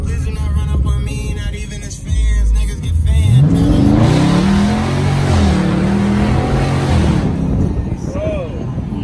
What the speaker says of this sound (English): let's do a launch